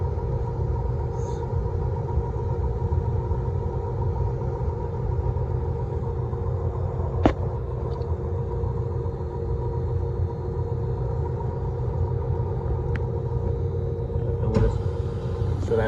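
An Electrofreeze freezer cabinet's barrel motor running as a steady low mechanical hum and rumble, with a couple of faint clicks and taps.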